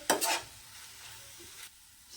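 A short burst of crackling sizzle as spices hit hot oil, loud at first and then fading into a quiet hiss.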